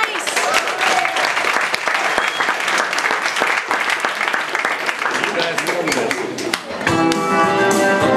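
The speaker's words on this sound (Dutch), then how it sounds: "applaus voor Matthijs!" A small audience applauds for the singer Matthijs with loud, steady clapping, and near the end a melodic tone begins under it.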